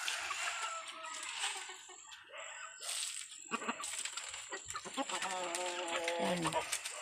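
Pet chickens cluck and chatter inside their new coop on a rural Philippine property, close and fairly steady, while people talk nearby and a rooster-like call rises near the end.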